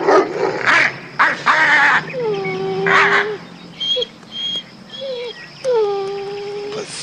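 A dog barks and whimpers nearby: several sharp, loud barks in quick bursts mixed with higher whining yips and drawn-out whimpers, with no talking.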